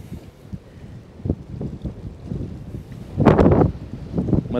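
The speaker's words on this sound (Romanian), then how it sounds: "Mă termină vântul ăsta." Gusty wind buffets the microphone in low rumbling bursts on the Danube, swelling loudest near the end, with faint water and boat sounds beneath.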